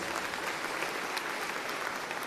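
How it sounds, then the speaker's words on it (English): An audience at a school matric class celebration gives sponsors a round of applause, a brief burst of steady, even clapping from many hands in a hall. "A round of applause to our sponsors."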